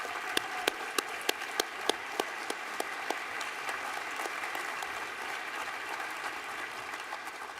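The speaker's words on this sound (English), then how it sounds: "give our scholars one more round of applause" Audience applause for scholars at a presidential foundation scholars program event, a dense wash of clapping with a few sharp nearby claps standing out early on, then settling into steady even applause.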